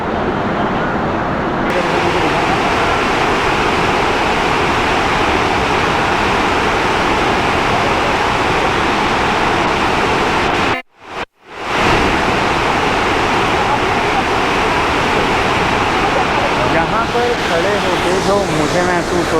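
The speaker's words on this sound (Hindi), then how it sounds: "पानी के गिरने का प्रेशर इतना तेज़ है कि उसके हल्के हल्के छींटे ना यहाँ ग्रिल के पास खड़े होने वाले को लग सकते हैं" The Dhuandhar waterfall on the Narmada river at Bhedaghat, Jabalpur, pours with a steady, dense roar of falling water, loud and close, broken only by a brief dropout partway through.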